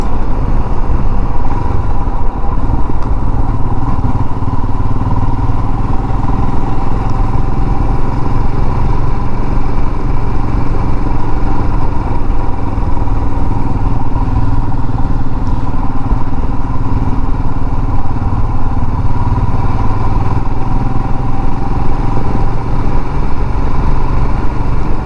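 A motorcycle rides along quiet back lanes, its engine a loud, steady, continuous drone with rumbling texture and no pauses throughout.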